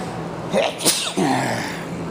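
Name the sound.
sneeze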